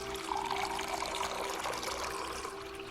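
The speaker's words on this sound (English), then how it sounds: "the water flowed from the hole, down the folds and into the gutter" Water poured through a hole runs down folds of material and into a gutter, a steady, continuous trickling and splashing that stays even and fairly close for the whole stretch, with no talking.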